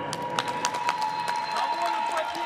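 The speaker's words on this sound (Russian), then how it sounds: "ваши аплодисменты" Audience applause and cheering in an arena after a K1 kickboxing final, steady clapping with a voice speaking over it.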